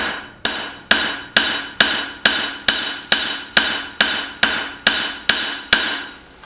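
Steel knife blade being hammer-forged to draw bevels on thin stock, with twelve sharp, evenly spaced hammer blows ringing out close and loud, each strike decaying quickly before the next.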